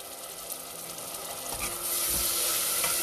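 Tomatoes and turmeric powder sautéing in a pan for urad dal, a dense close sizzle that grows louder partway through, with soft stirring movement underneath.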